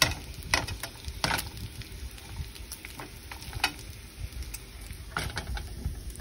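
Bacon sizzles loudly in a pan on the stovetop. Stirring and flipping add irregular scrapes and taps at close range, with no talking.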